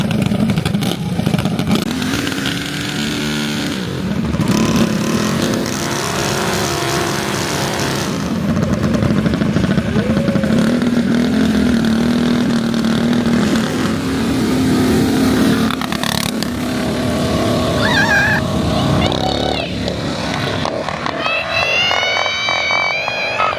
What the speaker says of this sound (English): So let's see how these mini bike races go today.